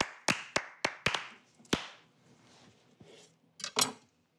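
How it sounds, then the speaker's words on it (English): Slow, deliberate claps from a studio audience on a television cooking show: a handful of crisp, widely spaced smacks, then a pause and a final pair of claps, fairly quiet against a hushed room. "I think we need a slow clap for that."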